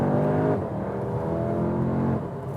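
An Audi S3 Sportback pulls hard out of a corner on a test track, its engine droning steadily with a smooth rising pitch, heard from inside the cabin with no talking.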